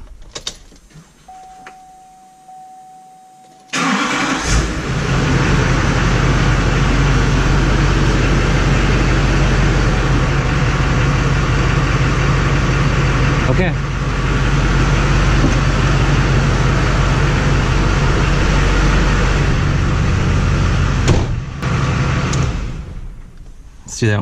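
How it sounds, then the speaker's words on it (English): A 2005 GMC Sierra 2500HD pickup engine cranks and catches after a few quiet seconds, then runs loud and steady nearby for about twenty seconds before shutting off. "Let's fire this thing up."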